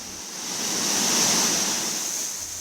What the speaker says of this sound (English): Beaver Falls is actually not a single waterfall, but rather a series of cascading waterfalls and pools